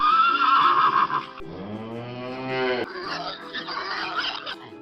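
A horse on a farm lets out a loud, close whinny that rises and then falls in pitch, running for several seconds with no voices over it.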